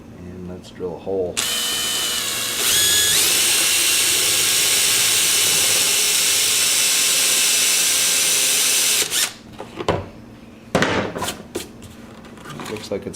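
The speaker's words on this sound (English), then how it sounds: "And let's drill a hole." Power drill whines loudly and continuously for several seconds as it bores a hole into the fiberglass resin of a Honda Sabre motorcycle being built as a cafe racer, followed by short bursts of drilling and clatter.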